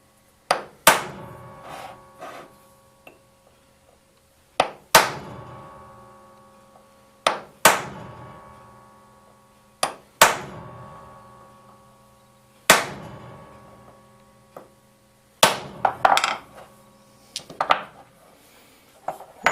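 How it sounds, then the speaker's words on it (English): Sharp metallic hammer strikes on a center punch into metal ring out one at a time at irregular intervals, about eight blows with a quick double tap near the end, close and loud. "I'll finish it with a center punch to make a little bit more substantial spot"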